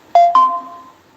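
A mobile phone gives off a short two-note chime, sharp and close, with both tones fading out over about a second.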